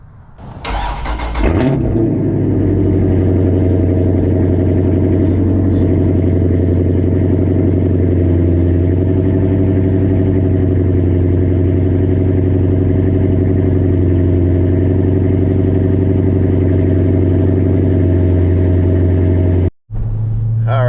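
A Dodge Charger 392 V8 engine cranks and fires with a loud burst, then settles into a deep, steady, rumbling idle that continues for a long stretch, in winter.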